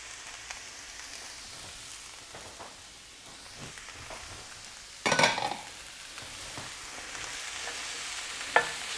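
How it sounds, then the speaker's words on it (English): Bacon fries with softened vegetables in a pan, giving a quiet, steady sizzle with a louder burst of spitting near the middle and another brief crackle near the end. "And then I'm going to add in my bacon."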